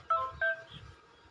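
A handset phone keypad sounds two short, loud dialing tones about a third of a second apart, followed by faint low rumbling.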